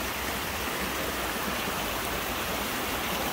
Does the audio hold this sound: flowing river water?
yes